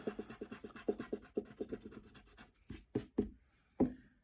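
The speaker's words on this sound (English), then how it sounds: "I'm gonna grab my eraser and erase this" A rubber eraser rubbing out a pencil drawing on paper, a rapid series of short scratchy strokes, close and quiet, slowing to a few separate rubs near the end.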